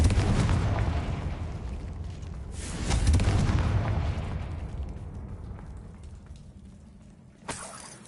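A Confringo spell explosion in Hogwarts Legacy, a loud close blast with a heavy rumbling roar that swells again and slowly dies away, ending with a sharp pop.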